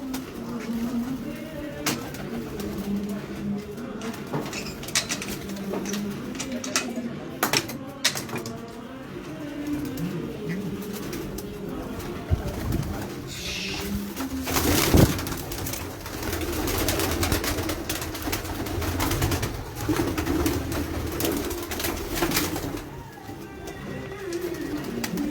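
Kajal pigeons at a Punjab pigeon-keeping champion's loft in Chiniot coo steadily and repeatedly across the whole stretch, mixed with ambient background noise and faint voices.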